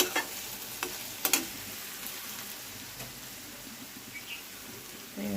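Koi and shing fish from a pond cooking with homegrown tomatoes and boiled potatoes, giving a steady soft sizzle with scattered stirring clinks and scrapes, close by, with no talking.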